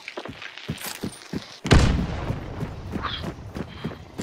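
A bomb explosion in a shooting video game lands as one heavy boom followed by a rumbling tail, preceded by a series of sharp gunshot-like cracks and faint scattered pops afterward.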